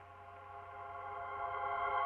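Reversed reverb riser made for a music intro, a sustained tonal swell that builds gradually in loudness and cuts off abruptly at its peak.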